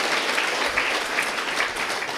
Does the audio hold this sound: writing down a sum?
no